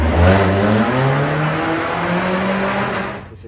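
A completely stock K2040 truck engine with a truck intake revs hard nearby, a loud rising and falling roar with clear sweeping tones before easing off at the end.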